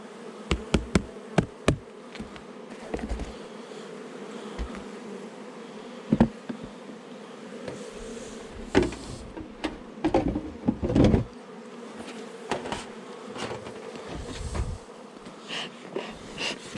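Honey bees buzzing around hives in a lime-blossom honey harvest, a steady low drone with many sharp close fly-bys passing the microphone, no talk.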